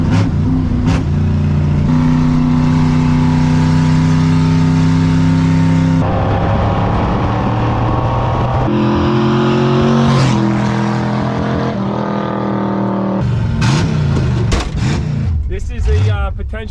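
Junkyard Chevy Impala wagon with a V8 engine runs loud and close, its steady idle rising into several revs and dropping back, with shifting engine tones throughout.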